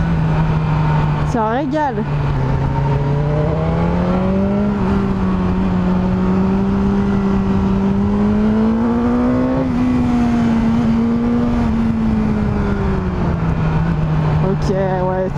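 A 2022 BMW S 1000 R motorcycle engine revs hard and steady close by, its tone rising and falling through the gears while a rider talks over it.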